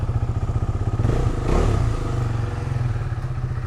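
Aprilia RSV4 motorcycle fitted with a new SC-Project exhaust, riding with a deep rapid pulsing engine note that swells as it revs, loud and close, with wind rumble and no voices.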